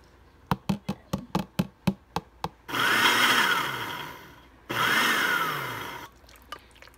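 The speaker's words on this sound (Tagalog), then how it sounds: "Dito na siya sa blender." Several sharp taps, then a loud blender blending avocado and milk whirs for a few seconds, stops, and runs again in a second burst, close by.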